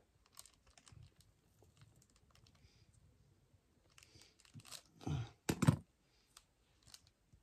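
Scissors cut a piece of paper in two, soft snipping and rustling building to a couple of louder crisp cuts near the end, quiet and close with no talk.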